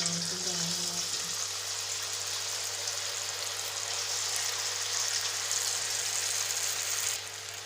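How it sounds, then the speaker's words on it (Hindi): Potato karanchi snacks fry in hot ghee with a dense, steady close sizzle and bubbling that holds loud and even throughout, with brief soft talk near the start. "अब हम इसको करेंगे फ्राई। ये हमने जो घी है उसको गर्म कर लिया, अब हम इसमें ये डालेंगे"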